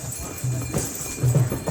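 Horse hooves clip-clop at a walk on the path down from the Vaishno Devi shrine near Katra during Navratri, a few clear hoof knocks over steady outdoor background noise.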